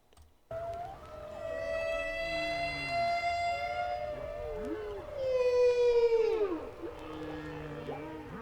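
Long, sliding whale-like tones in a song moan and swoop over a low rhythmic backing, rising and falling in pitch, loud and close.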